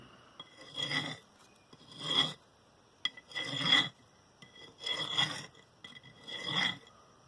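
Steel rebar driven into the ground and rubbed to draw worms out, giving five rhythmic rasping strokes, each about a second long with short pauses, close and fairly loud, with no talking.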